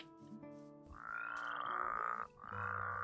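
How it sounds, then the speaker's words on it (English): Frogs in a Minecraft world from the TolkienCraft II modpack give a few loud, drawn-out croaks, the longer middle call swelling and holding before a short gap and a final croak, with no talking over them. "These frogs are so cute, but they're also so obnoxious. But don't hit them, they make the most terrible sound."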